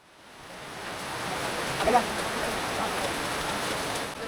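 Heavy rain pouring down steadily during a rainy village picnic, a dense even hiss that swells in over the first second and then holds, with no voices.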